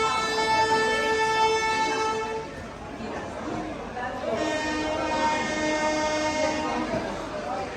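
Farakka Express passenger train running between Malda and Delhi, with a long sustained horn blast near and loud, fading briefly then sounding again, over rumbling rail noise and people chattering in the background.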